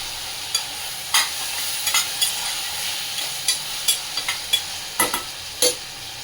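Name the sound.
potatoes sautéing in oil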